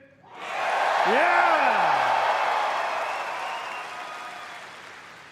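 A big convention crowd at BlizzCon breaks into loud applause and cheering, with a sharp whoop near the start. The sustained roar of clapping swells quickly, holds for several seconds, then slowly fades while a voice rises briefly over it.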